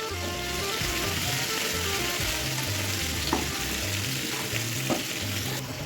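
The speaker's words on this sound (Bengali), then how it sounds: "কুমড়ো আর আলুটা ভাজা হয়ে এসেছে," Pumpkin and potato fry in a pan with a constant, close sizzle while being stirred, a couple of faint utensil scrapes standing out against the hiss.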